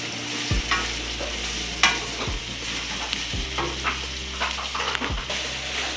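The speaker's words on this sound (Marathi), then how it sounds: "आता आपण भेंडी पूर्ण त्या फोडणीमध्ये मिक्स करून घेऊ" Okra is stirred into sizzling tempering in a pan, with steady frying hiss and several distinct scrapes of a spoon against the pan at intervals, close and alone.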